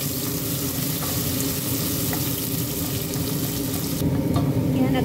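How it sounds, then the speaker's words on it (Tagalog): Onions toasting in hot oil in a cooking pot, a steady dense crackling sizzle up close that carries on evenly without pause, no speech. "Ito-toasted lang natin yung ating onion."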